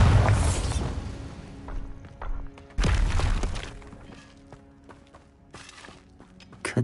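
Bombarda blasting spell from a video game going off in a loud, close explosive burst, followed by a second blast with shattering debris and smaller thuds and rattles in between.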